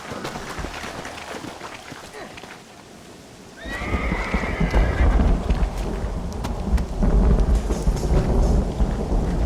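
Horses in the video game Red Dead Redemption: a loud, close whinny rises over rumbling galloping hooves and low thunder-like noise, which grow heavier partway through.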